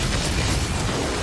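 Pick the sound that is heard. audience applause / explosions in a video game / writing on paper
explosions in a video game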